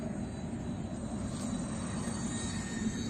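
A homemade UMX Turbo Timber RC airplane flies at low throttle, around a quarter power, giving a steady, even electric motor drone with a constant hum that holds at one level throughout, without pauses.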